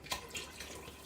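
Lager beer glugging from a bottle into a soup pot, a short run of splashing, gurgling pours heard up close and soft.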